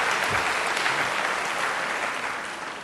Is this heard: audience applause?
yes